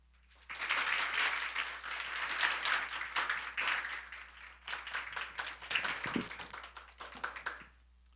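A church congregation at a Wednesday worship service claps in welcome as a pastor comes up to preach; moderate, fairly close applause swells, dips briefly midway, then resumes before fading out.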